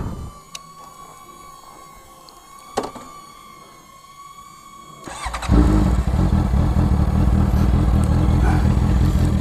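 A Honda CBR650F motorcycle engine idles quietly with a few clanks, then revs up loud and steady about halfway through, running strongly to the end.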